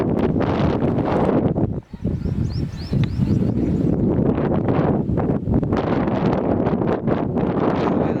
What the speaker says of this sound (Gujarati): અત્યારે તો બાકી પવન મસ્ત મજાનો આવે